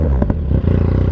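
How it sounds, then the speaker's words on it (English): Yamaha MT-09 motorcycle fitted with a Black Widow 200mm exhaust, idling loudly up close then blipped through a few short throttle twists, the engine note rising and settling in quick bursts. "So let's give it a bit of a rev up, shall we? Let's give it a few little twists first."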